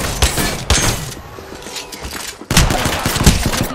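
Gunfire in Apex Legends, PC gameplay: close, loud bursts of rapid shots in two clusters separated by a quieter lull, each burst a dense rattle of cracks.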